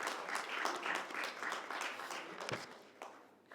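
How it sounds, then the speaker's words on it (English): Many hands clap at an academic conference on Tibetan studies, steady applause from the audience that holds at moderate volume and then thins out toward the end. "So please give yourselves a round of applause."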